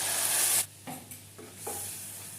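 Ginger and tomato paste frying in a pan, a loud burst of sizzle when the paste goes in, then quieter intermittent scrapes and stirs against the pan.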